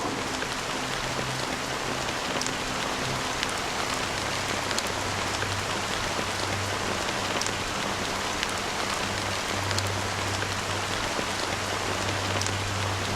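Rain falls steadily in the Honkai Star Rail game world of Penacony, an even, dense patter of drops on surfaces continuing for the whole stretch with a low hum beneath and no talk.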